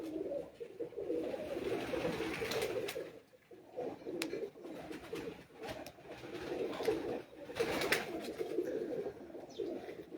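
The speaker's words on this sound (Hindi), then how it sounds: "ये देखें जी कबूतर।" Pigeons coo on a rooftop loft in Kundian, giving a continuous layered chorus of soft low burbling calls. Occasional brief chirps and clicks rise above it, with no speech.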